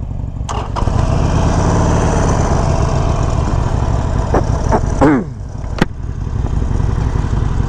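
A 2021 Harley-Davidson Sportster 48 motorcycle engine starts and settles into a steady, loud, close idle, with a few sharper clicks and a brief pitch sweep partway through.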